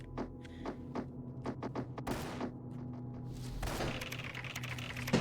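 A chain gun fires in a video game in short bursts of sharp reports, then longer rattling streams of rapid shots, close and loud over a low steady hum.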